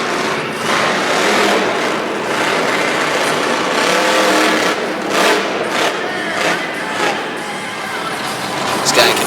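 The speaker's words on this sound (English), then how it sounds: "This guy can wheel a monster truck with the best of them" A monster truck engine roars and revs loudly at a freestyle event in Pocatello, Idaho, surging and easing in waves under crowd noise and an announcer's commentary.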